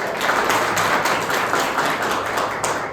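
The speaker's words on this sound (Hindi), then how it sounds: "तालियां चाहूंगा बिल्कुल" Applause fills a classroom during a teacher training session at Chanakya International School, a steady, dense wash of many hands clapping at once that stays loud and even from start to finish.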